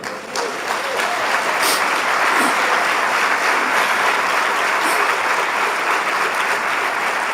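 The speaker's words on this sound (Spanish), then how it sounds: "Denle un aplauso." Congregation in a church service breaks into sustained, loud applause that fills the room evenly throughout, with a few whistles or shouts rising above the clapping.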